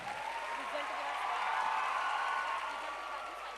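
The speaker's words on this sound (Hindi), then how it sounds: "ज़ोरदार तालियों के साथ" Audience at a school quiz contest function applauds to welcome guests onto the stage, a steady, even wash of clapping from start to finish with a voice heard over it.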